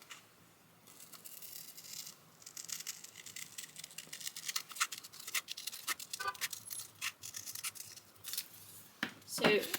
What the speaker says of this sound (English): I'm just going to cut around one side.